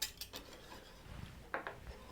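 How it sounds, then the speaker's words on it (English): A whisk stirring cream in a pan, quiet rhythmic metallic scraping and clicking close by, faint and with no talk. "notice I'm whisking as I add"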